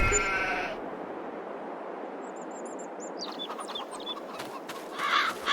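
Sheep bleat in a run of short, bright calls inside the Farming Simulator 22 game, moderately loud and separate from one another over a low steady background hum.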